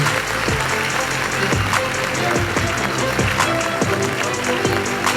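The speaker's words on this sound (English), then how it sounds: "Please keep clapping, keep clapping." Sustained applause from a graduation ceremony audience fills the space, a dense, even wash of many hands clapping at steady loudness, with music or low tones running underneath.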